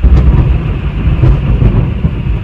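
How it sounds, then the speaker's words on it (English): Heavy rain pours steadily while camping in the Blue Ridge Mountains of Arizona, a loud, dense roar with low rumbling and no break across the short stretch. "it's been raining now for about half an hour."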